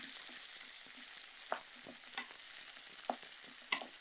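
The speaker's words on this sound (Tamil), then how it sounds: "இந்த மாங்காவை இதை நல்லா வதக்க ஆரம்பிக்கிறோம்" Raw mango sautéing in a pan with curry leaves and green chilli, a steady low sizzle broken by intermittent clinks and scrapes of a stirring spoon, moderately close and with no voices.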